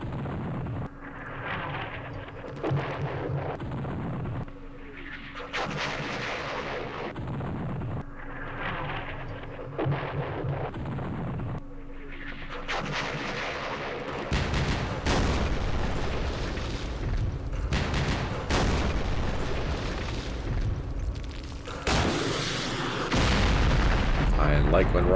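Rocket explosions in the computer war game Campaign Series West Front, Aachen West Wall battle: a string of muffled booms and bursts that swell and fade, turning denser and louder toward the end, under occasional talk.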